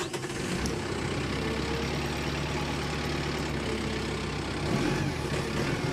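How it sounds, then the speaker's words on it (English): 2022 Kubota M7060D tractor diesel engine running at a steady idle, a low, continuous rumble heard close and alone, slightly louder toward the end. "I'm going to start this tractor up"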